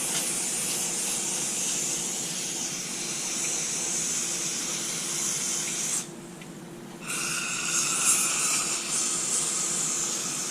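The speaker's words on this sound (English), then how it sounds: "Give this a good old spray down." Lucas Extreme Duty Contact Cleaner sprayed from an aerosol can onto a Smith & Wesson MP9 2.0 pistol, a continuous close hiss with a brief pause before the spray resumes.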